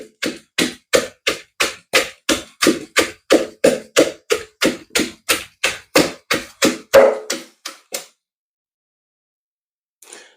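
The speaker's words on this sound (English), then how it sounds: "Then I have to grind it with the stick." A stick pounds ground black pepper in a mortar for a peanut soup. About two dozen hard, evenly spaced knocks come at a quick steady beat, close and loud, then stop abruptly and leave silence.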